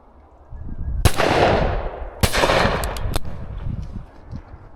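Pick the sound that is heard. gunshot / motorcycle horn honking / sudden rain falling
gunshot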